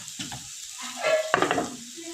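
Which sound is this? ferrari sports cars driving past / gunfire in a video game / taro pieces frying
taro pieces frying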